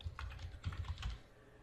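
Keys clatter on a computer keyboard while text is entered into a Microsoft Word document, a quick uneven run of close clicks that falls quiet near the end, with no talk.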